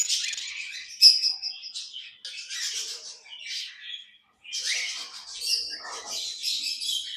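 Several caged birds in a home aviary chirp and squawk close by, with rapid high tweets in bursts and short pauses between them.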